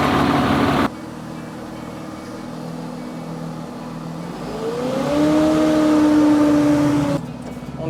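Valtra T175 farm tractor engine running: after a brief loud burst, a steady low idle rumble rises into higher revs with a clear whining tone, then drops away near the end, close by with no talk.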